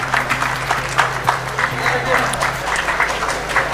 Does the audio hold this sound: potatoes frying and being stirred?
no